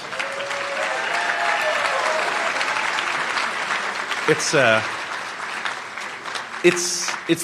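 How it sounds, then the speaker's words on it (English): Audience applause fills a white coat ceremony for an osteopathic medical class of 2028, a dense, steady roar of clapping for about four seconds before it thins and a voice begins speaking over the last claps. "You can give yourself a round of applause at the moment."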